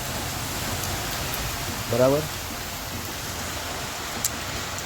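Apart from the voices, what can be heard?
rain with wind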